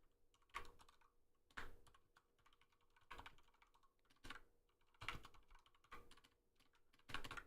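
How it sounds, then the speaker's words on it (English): Keys clacking on a computer keyboard in quick irregular bursts, with louder accented strikes about once a second, close and fairly quiet, alone without talk. "you could also enjoy me typing ASMR style"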